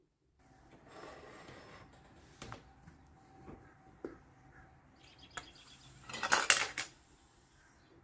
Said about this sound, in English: So we're going to mince 1 garlic clove into that jar.